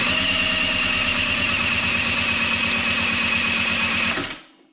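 A Piaggio NRG scooter engine spins on its starter during a compression test, giving a steady, rapid, loud mechanical churn with a rhythmic pulse that runs for about four seconds and then cuts off abruptly.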